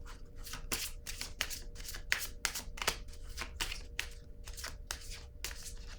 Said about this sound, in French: Je vais piger une carte rose ici.